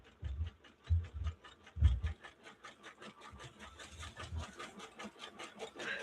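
A quilting sewing machine stitches a Mylar wedding quilt with a continuous rapid mechanical whir and a few heavier thumps early on, nearby and moderately loud.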